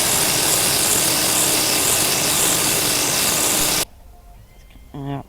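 Metal being wet-sanded by hand with 400 grit sandpaper, a steady, loud abrasive rubbing that runs continuously for nearly four seconds, then stops abruptly, leaving a quiet room with a brief faint tonal sound near the end.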